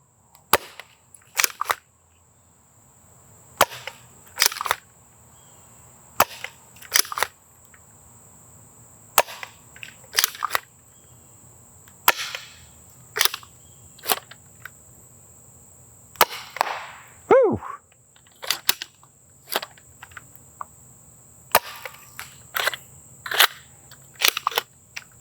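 Sharp snapping impacts of Nerf Skewer blaster darts hitting a target at about 55 to 60 feet, struck singly or in quick pairs at irregular intervals across a quiet outdoor background with a steady high hum.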